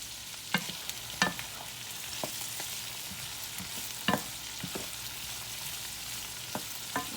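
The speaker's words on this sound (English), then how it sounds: "now while your squash is frying" Summer squash fries in oil with a soft, constant sizzle, punctuated by occasional sharp pops and clinks of a utensil against the pan.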